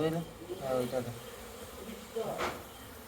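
Bees buzzing around a hive being cut out of a house corner, heard as close, droning hums that rise and fade over a few seconds, with people talking nearby.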